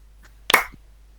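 One sharp hand clap stands out clearly in a quiet room during a classroom-style clapping routine at a teachers' workshop, with a soft short echo after it.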